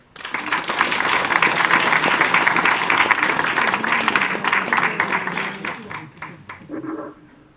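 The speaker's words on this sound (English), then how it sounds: "please give a round of applause to Dimitar Bechev" Audience applause welcoming Dimitar Bechev to the lectern at a Balkanski-Panitza lecture: dense, steady clapping from a full hall that holds for about seven seconds, then thins and stops.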